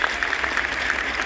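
Audience clapping at a standup comedy show in a college auditorium: a steady, dense wash of applause from a crowd, close and fairly loud, with no voice over it.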